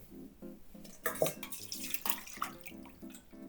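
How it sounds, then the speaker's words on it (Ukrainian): Milk drained off soaked chicken livers in a kitchen, a splashing pour of liquid that starts after a second and runs on over a steady background pattern, close and moderately loud. "Зливаємо молоко."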